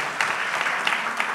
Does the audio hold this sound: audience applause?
yes